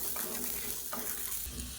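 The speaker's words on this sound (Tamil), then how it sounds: "அந்த சூப்லேயே சேர்த்து நல்லா வதக்கிக்கலாம்." Chutney ingredients with a small piece of tamarind sauté in hot oil in a pan, giving a steady close sizzle with scraping stirs throughout.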